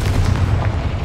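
A Confringo blast spell exploding in Hogwarts Legacy, heard as a dense, loud, rumbling boom that lasts the whole second without a break; no speech.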